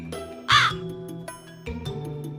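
A crow gives one loud, harsh caw partway through, standing out clearly over a soft musical background with no talking.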